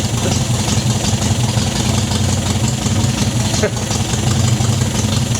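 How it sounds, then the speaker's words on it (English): An MGB car engine ticks over at idle with a steady, loud low rumble throughout, partly under a voice speaking. "The engine's ticking over, but I wouldn't go so far as to say happily now, but it's ticking over."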